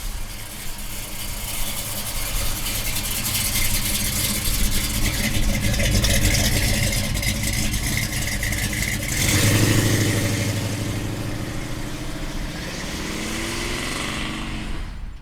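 A Chevrolet Chevelle with a fuel-injected 502 Ramjet engine idles with a steady, rumbling drone close by, and the tone changes partway through.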